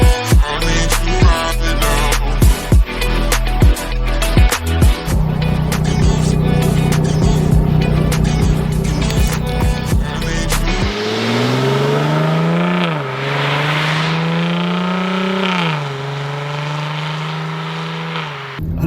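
Jaguar F-Type engine, loud and close from inside the car while driving, with rapid pops and crackles early on, then smooth revs that rise and fall through the gears.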